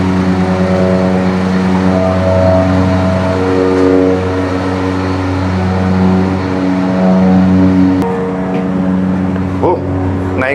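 Engines drone loud and steady inside a parking garage, a continuous close rumble that persists throughout, with a brief sharper knock near the end.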